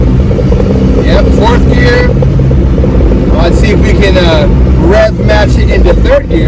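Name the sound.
Honda Civic Hx engine revving, rev matching into 3rd gear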